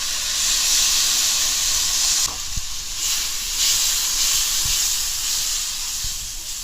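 Soya meat curry with tamarind and tomato sautés in a pan, giving a loud, steady sizzling hiss that continues throughout with slight shifts and a few faint clinks, and no voices.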